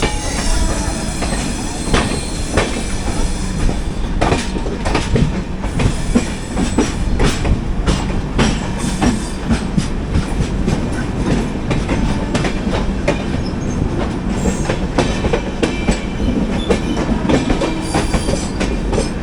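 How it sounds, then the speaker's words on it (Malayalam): An express train rumbles past on the rails in India, with steady clickety-clack of wheels, occasional squeals and a loud, close, continuous roar throughout. "ഇവിടെ ഒരു ട്രെയിൻ വരുന്നുണ്ടല്ലോ."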